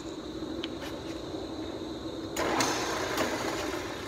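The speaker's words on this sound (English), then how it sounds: "Did a test run on the spinner pumps. It's a little bit stiff, but it's moving." Honey extraction spinner pumps run with a steady low mechanical hum and whir, slightly stiff, growing a little louder and busier partway through, with no voices.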